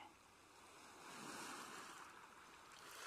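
Sea waves roll and wash in a soft, continuous surge, swelling slightly in the middle and again toward the end, faint and distant with some breezy noise, no voices.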